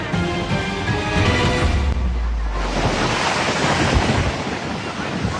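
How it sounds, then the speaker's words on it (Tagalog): Large ocean waves crash onto Coast Guard personnel on the coast at Aparri, Cagayan, a loud, continuous roar of surf with a heavy low thump midway and strong wind buffeting the microphone. "Malalaking alon ang humampas sa mga tauhan ng Coast Guard sa Apari, Cagayan nitong Biyernes Santo."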